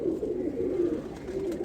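A pigeon coos in a steady low warble, near and fairly loud, with no talk over it.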